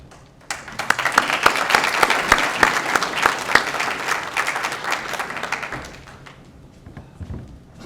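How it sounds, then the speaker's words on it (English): Audience at an Eagle Scout Court of Honor ceremony in 2019 breaking into loud, sustained hand clapping that fades out after several seconds. "Thank you for that great applause."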